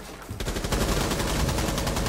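Rapid automatic gunfire in Rainbow Six Siege, a fast steady burst of close shots that starts sharply and rattles on loudly without pause.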